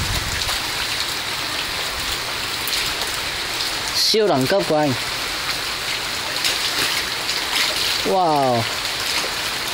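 Heavy rain pours steadily as a dense, constant hiss while a person exclaims briefly over it, outdoors during a martial arts performance.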